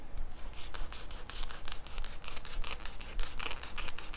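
Close, rhythmic scratching of fingernails across Hobonichi planner paper, repeated quick strokes with a dry, slightly squeaky, grippy texture and no talking.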